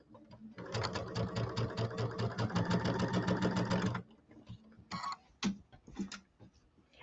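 A Kimberbell sewing machine stitching and tying off a table topper border: a fast, rhythmic mechanical clatter runs for about three seconds, then stops, followed by a few short bursts of stitching and faint clicks.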